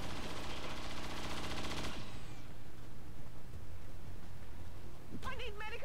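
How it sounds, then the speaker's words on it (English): Sustained automatic suppressing fire from XCOM 2 rattles loudly for about two seconds, then cuts to a quieter ambient tail, with a shouted voice line near the end. "Suppressing fire on target."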